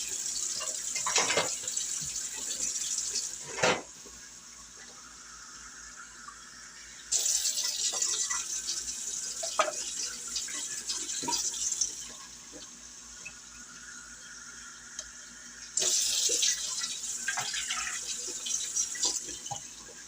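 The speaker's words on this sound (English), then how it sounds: "I'm going to start by adding 3 cups of water to my pan" Tap water running into a kitchen pan in three bursts of steady, hissing flow, each lasting several seconds with quieter gaps between, plus light clatter in between.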